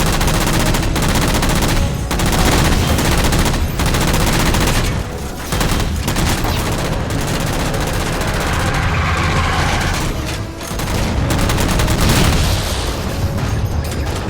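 Dense, sustained automatic gunfire and booming blasts fill a Halo 4 battle as jammers are shot down, loud and nearly continuous with brief dips, rapid bursts layered over heavy impacts.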